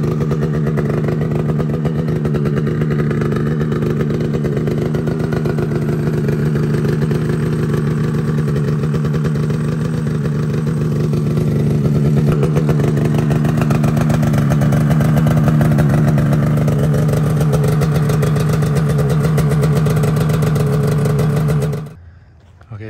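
A Polaris snowmobile engine idles steadily after being started, with a loud, even, continuous drone that holds for about twenty seconds and then cuts off abruptly near the end.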